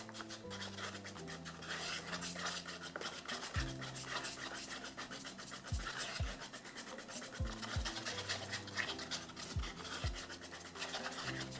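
Two-part resin is stirred in a cup, with a continuous close scraping and rubbing that holds steady throughout and is broken by a few soft knocks against the cup wall.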